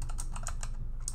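Quick, light keystrokes on a computer keyboard clatter in an uneven burst close to the microphone over a low background hum.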